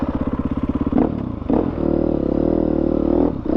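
KTM motocross motorcycle on a dirt track, engine chugging in rapid low pulses, then revving hard with clattering thumps as it climbs, loud and close with no talk.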